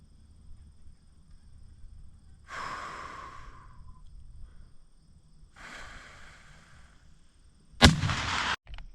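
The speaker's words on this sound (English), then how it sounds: "We're going to shoot it at 100 yards" A Remington 760 rifle chambered in .35 Remington fires once at a 100-yard target outdoors, a single loud, sharp report near the end with a short decay, preceded by quieter breathing-like rustles.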